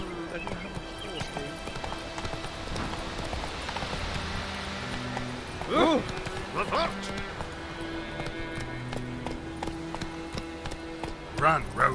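Roach the horse gallops in The Witcher 3, hooves clip-clopping in a steady rhythm under game music, while a player talks and exclaims over it.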